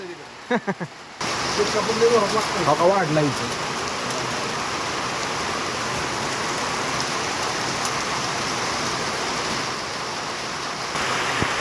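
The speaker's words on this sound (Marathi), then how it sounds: "इतका जोरात पाऊस आहे ना हा" Heavy rain with hail pounds down in a dense, unbroken roar during a cloudburst in Lonand, after a brief moment of voices at the start.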